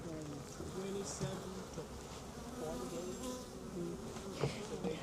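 Honeybees buzz steadily around a gentle, calm hive in a community garden, a dense continuous drone with wavering pitches from many insects close by, with a faint voice in the background.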